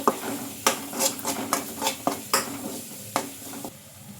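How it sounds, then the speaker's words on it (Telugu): A spoon repeatedly knocks and scrapes in a pan while spices fry with turmeric, giving a rhythm of about a dozen clanks over a soft continuous sizzle, close and with no talk. "ఇంకా ఈ పసుపు కూడా వేసుకొని పచ్చివాసన పోయే వరకు అయితే బాగా ఫ్రై చేసుకోవాలి"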